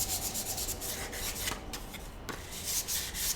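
Fine 400-grit sandpaper rubs back and forth over cured resin in short, close scratchy strokes, a soft steady rasp with brief pauses between passes.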